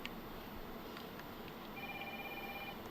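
Old telephone ringing in the video game Resident Evil 3 Remake, a thin electronic ring steady over dense game ambience and background noise.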